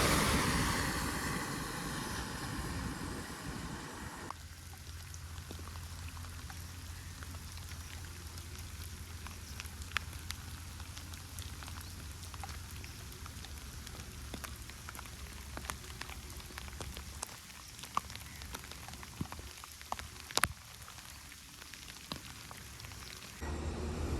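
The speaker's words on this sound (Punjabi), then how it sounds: "ਮੀਂਹ ਨਹੀਂ ਰੁਕਿਆ ਬਈ" Steady rain falls on a surface close by during a long bicycle pilgrimage ride, a constant soft hiss of drops with occasional sharper taps, heavier at the start and no talking.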